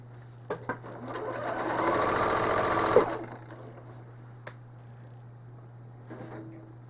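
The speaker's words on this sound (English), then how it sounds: "To baste the edge, I just stitch down this outside, but within the last 1/4 inch of the quilt" A home sewing machine runs one fast, even burst of stitching for about two and a half seconds as it bastes a quilt's outer edge, with a steady low hum before and after and a few light clicks.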